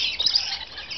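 Lorikeets chirp at a zoo feeding, with high, rapid tweets close by over a steady chatter of birds.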